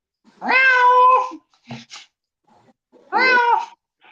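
A person does a vocal imitation of a cat's meow: two drawn-out, harmonic meows close to the microphone, separated by a gap with a couple of short clicks and faint noises.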